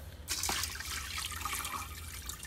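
Water rushes steadily into a large bucket fitted with a strainer as ceramic clay is rinsed, a full, splashing flow that starts abruptly and keeps running.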